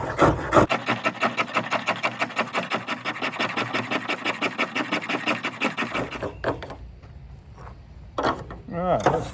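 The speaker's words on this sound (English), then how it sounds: "You can flip it 180 degrees and it'll really scrape well in the other direction." A Mora Companion Stainless knife scrapes wood in a fast, regular rasping rhythm of many even strokes, close and clear, then stops, leaving a few scattered scrapes and handling noises.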